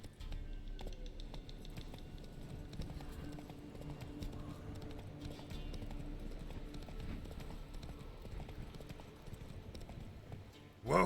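Roach the horse galloping in The Witcher 3: Wild Hunt, a steady run of hoofbeats clopping close and continuously over a low ambient bed, with a brief louder burst at the very end.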